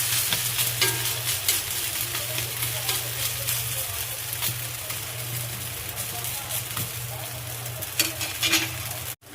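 Egg, milk and wheat batter frying in a pan, a steady close sizzle with scattered crackles and pops over a low background hum, with no speech.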